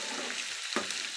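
Large pieces of bitter gourd fry in hot oil with a steady loud sizzle, broken by one brief scrape or stir partway through, close up and without talking.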